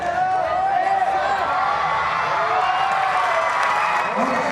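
A crowd at a gymnastics World Challenge Cup in Tashkent applauds and cheers after a pommel horse routine, a broad, steady wash of clapping and shouts that continues throughout, with a commentator talking over it.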